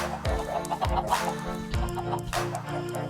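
Video game chickens clucking repeatedly at close range, short bursts with a steady bed of background noise.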